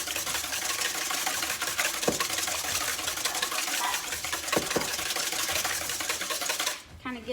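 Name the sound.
whisking eggs for bread pudding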